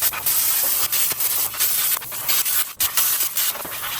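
Trim on a turbo Ford Ranger being cut back to let a Volkswagen intercooler fit, a loud continuous abrasive hiss and rasp that surges and dips slightly in strokes, close up with no talk.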